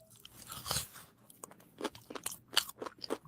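Chicken is chewed in a mukbang with soft, close crunching. Crackly bites repeat irregularly at low volume, with a few sharper crunches near the end.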